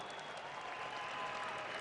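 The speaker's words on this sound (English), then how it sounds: "A well-deserved round of applause for Arman Ashimov from Kazakhstan." Arena crowd at an M-1 Challenge MMA event applauding the winning fighter, a continuous, fairly loud roar of clapping and cheering with faint voices mixed in.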